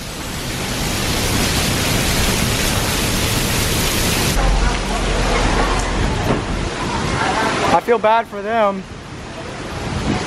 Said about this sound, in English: Dude, look at this rain coming off the building